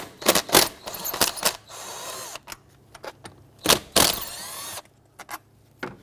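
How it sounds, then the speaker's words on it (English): Two 10mm bolts come out of a 2005–2021 Nissan Frontier 4.0L V6 engine bay with quick bursts of a power driver or ratchet, close up, separated by short pauses and light clinks. "Remove the two 10mm bolts here."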